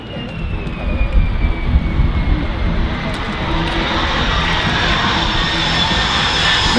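A RAAF Lockheed Martin F-35A jet at the Avalon Airshow roars loudly and steadily nearby, its broad engine noise rising and holding as the aircraft passes, with crowd noise mixed in.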